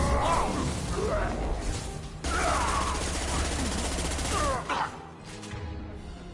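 Weapons firing in a Mass Effect battle, loud sharp shots and bursts with crashing impacts and whooshes, one big blast cutting in midway, heavy fire tapering toward the end.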